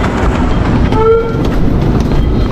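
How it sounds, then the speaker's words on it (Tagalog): An LRT light rail train passes close by, loud and rumbling, with clattering wheels throughout and a short horn tone in the middle. "So ang LRT, ayan, sakaya ng LRT."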